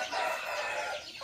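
Chickens with their chicks cluck and cheep close by in a steady run of chatter, with a short crow-like call near the end and no talk.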